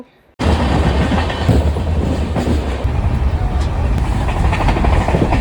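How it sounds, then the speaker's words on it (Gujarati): A train rumbles steadily along the rails, loud and close, with a constant rolling roar and faint clicking throughout. "અમારી ટ્રેન આવી ગઈ એટલે અમે ટ્રેનમાં બેસી ગયા"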